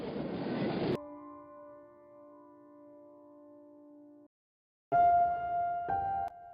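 A train at a station gives a loud rumbling burst, then a sustained horn-like tone fades, and after a short silence a second louder horn blast sounds with rumbling.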